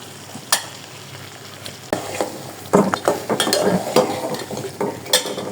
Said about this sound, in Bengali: এখন আমি পিঠাগুলো ভাজবো।